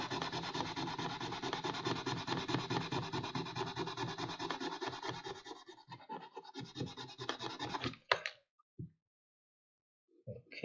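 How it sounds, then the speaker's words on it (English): Hardened durable paste is sanded by hand with steady, close rubbing strokes that continue for several seconds, then slow into a few scattered scrapes before falling silent. "Trying to feel with my finger where it needs to be sanded."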